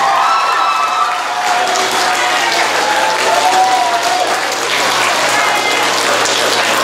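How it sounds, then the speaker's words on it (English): Sustained audience applause fills an elementary school geography bee for the winner, a dense, steady wash of many hands clapping at close range, with faint voices mixed in. "everybody give a big round of applause for Brian"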